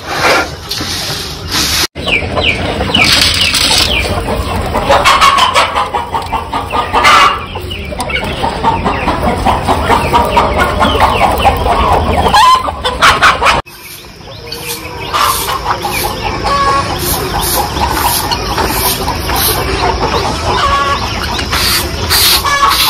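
Several chickens cluck and squawk close by on a poultry farm, with scattered calls overlapping through a busy farmyard din; a brief crow-like call rises now and then.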